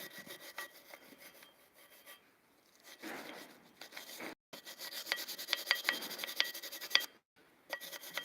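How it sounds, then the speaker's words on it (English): Sandpaper scrubbed over rusty metal in rapid back-and-forth rasping strokes, close and fairly quiet, with a couple of brief pauses between passes. "take some sandpaper to it"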